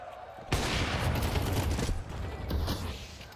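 Counter-Strike gunfire, a FAMAS against an AK, bursting in suddenly with loud rapid shots and a dense clatter of rounds lasting a few seconds.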